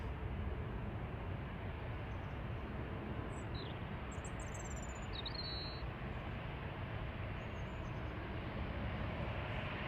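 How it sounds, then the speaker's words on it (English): An easyJet Airbus A320 Classic bound for Belfast takes off from Manchester Airport, a broad, distant jet roar held steady throughout, with a few faint bird chirps above it and no talking. "EasyJet 701 to Belfast, lined up and ready to go."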